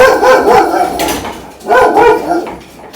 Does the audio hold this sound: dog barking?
yes